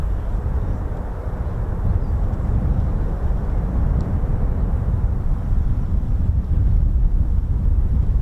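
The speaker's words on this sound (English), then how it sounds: "So an MC-130J about to depart very shortly, part of the 67th Special Operations Squadron." An MC-130J military transport aircraft of the 67th Special Operations Squadron departing at RAF Mildenhall, a loud steady low engine roar with wind buffeting the microphone throughout.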